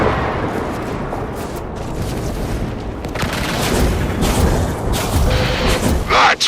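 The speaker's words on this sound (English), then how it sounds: "That was the old Macross cannon." Heavy booming blasts from the old Macross cannon in the Warframe video game, a rumbling explosive roar that swells and grows louder toward the end with several sharp reports, loud and enveloping.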